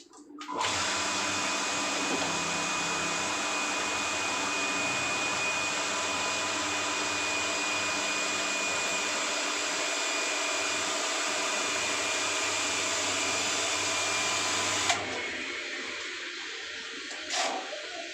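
An automatic household water pump runs after a tap is opened, giving a steady, loud motorized whirring hum that holds for about fifteen seconds and then cuts off, leaving a quieter background with a faint click afterward.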